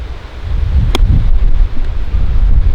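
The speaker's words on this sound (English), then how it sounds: "today it is a very windy one" Strong wind buffeting the microphone on the golf course at Telford Resort and Spa, a loud continuous low roar with gusty swells and a brief sharp knock, no voices.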